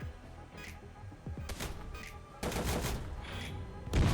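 Tank cannon and gunfire in the mobile war game MWT Tank Battles, several loud booming blasts with rumbling tails in quick succession over a steady battle background.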